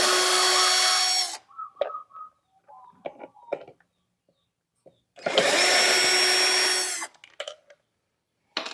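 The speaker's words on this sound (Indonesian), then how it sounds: "Kita lepas dulu baut dinamonya." A power tool runs in two loud bursts of whirring, close by, while removing the dynamo bolts from a Sukatani 16-litre electric sprayer, with small clicks and handling noises of the parts in between.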